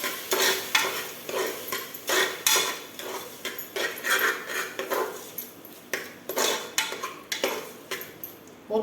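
A metal spoon scrapes and clanks repeatedly in a pot of chicken biryani masala with ginger, garlic, curd and lemon, in an irregular stirring rhythm of close, clear scrapes and knocks.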